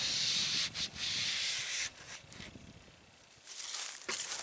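Rough, close scuffing as a rubber surface on a Colorado ZR2 is abraded to clean off dirt before a vent visor is fitted, in repeated rasping strokes with short pauses between them.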